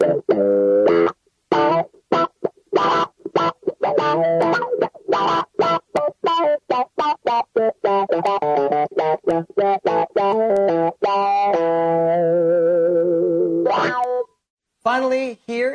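Electric guitar through a Vox DA5 amp on its Blues 3 setting with auto wah, played in choppy stabbed chords and short bursts with a sweeping, quacky filter and a brief held chord near the end.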